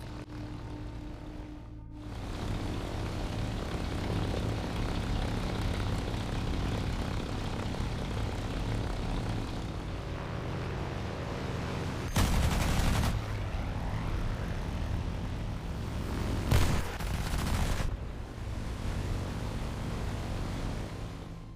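A steady propeller engine of a German Ta-152 fighter drones throughout, loud and close, with brief bursts of rapid machine-gun fire cutting in twice near the end.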